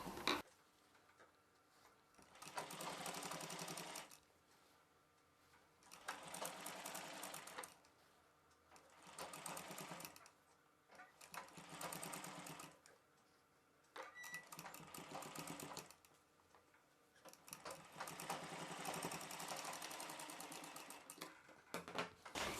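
A sewing machine stitches piping onto a long blouse, running in several bursts of rapid mechanical whirring separated by short pauses, close and steady, with no talking.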